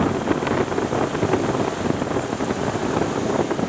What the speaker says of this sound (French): Ici, normalement, c'est le ventilateur.